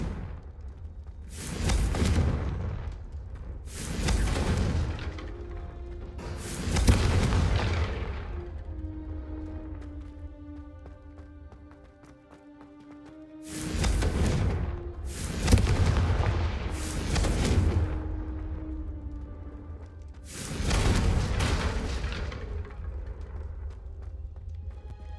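Blasting spell explosions in Hogwarts Legacy, five heavy booming detonations in clusters with rumbling tails and a low tonal hum between them, loud and close, with no talk.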